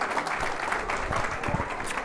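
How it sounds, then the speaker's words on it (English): An audience claps for Cadet, a hearing dog, after a demonstration: soft, scattered clapping at moderate distance, fairly quiet and brief, with low voices and room noise mixed in. "big round of applause for Cadet"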